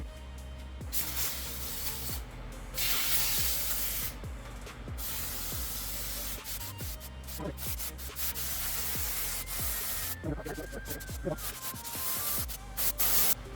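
A BEEST spray foam gun hisses in long bursts, starting and stopping repeatedly, with brief gaps and faint clicks between sprays.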